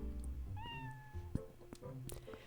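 A cat in The Legend of Zelda: Twilight Princess HD gives a single clear, rising meow, quiet and alone, followed by a few faint clicks and taps in the game.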